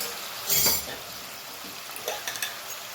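Tomatoes and spices frying in a pan, a steady soft sizzle with a spoon scraping and stirring, plus a few light clinks of the pan, close and fairly quiet.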